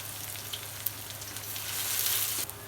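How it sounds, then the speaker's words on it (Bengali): Onions fry in hot oil with cardamom, cloves, cinnamon, bay leaf and garlic, a soft, steady sizzle that swells slightly, with a couple of light utensil clicks and no speech. "হয়ে গেছে ভাজা পেঁয়াজটা"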